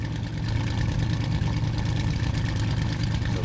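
A Bf 109 aircraft engine runs steadily just above idle with the throttle nudged up slightly, a loud, even low-pitched drone with a constant mechanical rumble throughout, and no voices.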